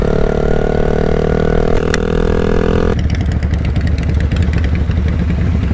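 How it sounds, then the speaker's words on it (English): Another motorcycle rides nearby on a road in Greenwood, Indiana, alongside a rider on a Honda Rebel 300. A loud, continuous engine drone mixes with wind rush, and its tone shifts sharply partway through as the engines rumble on together. "there's another motorcycle."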